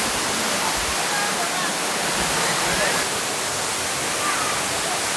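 A constant roaring rush of water falling into a rock hole at Saeng Chan Waterfall in Thailand, loud and close, filling the whole clip with broadband hiss.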